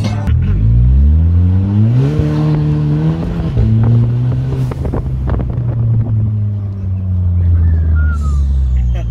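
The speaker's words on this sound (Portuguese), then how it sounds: "vocês viram os carros acelerando" Volkswagen Jetta and other car engines roar and rev continuously at a car event, pitch climbing and dropping across the clip, loud and close, with wind buffeting in the background.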